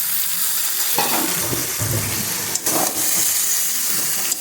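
Beans, peas, carrots, fried potatoes and paneer are stirred together in a hot pan, with a loud continuous sizzle and scraping stir strokes close by.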